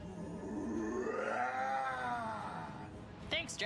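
Heavy metal style vocal screams, raw throat-shredding yells laid down by a male sound designer for the Kullervo Warframe character, one long strained scream swelling and bending in pitch, loud and close, ending in a couple of sharp bursts.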